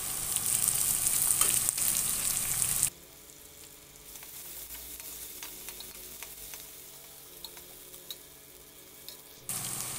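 Sliced onions with crushed ginger and garlic fry in a pan for an Odia taro and dried fish curry: a loud, bright sizzle with stirring, which drops to a softer simmer before surging again near the end.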